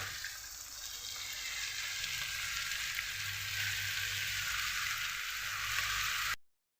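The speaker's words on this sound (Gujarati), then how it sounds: "સમારેલી પાલક એડ કરું છું।" Chopped spinach hits a hot pan with tomato and sets off a loud, steady, hissing sizzle that lasts several seconds close up before cutting off abruptly.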